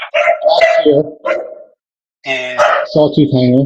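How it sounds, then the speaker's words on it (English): A dog barks several times in short sharp bursts close by in a home, mixed in with a person speaking. "Excuse my dog barking in the background."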